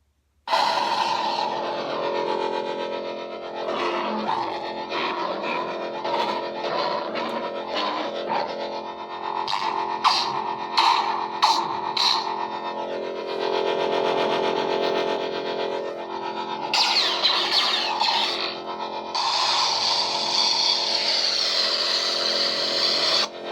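A SaberForge Descendant lightsaber fitted with a Prizm RGB soundboard and bass speaker ignites, then hums with a distorted, echoing buzz broken by sharp swing and clash bursts, loud and close with no talking.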